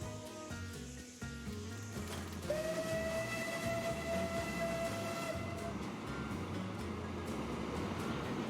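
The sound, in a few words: steam train running in the video game Transport Fever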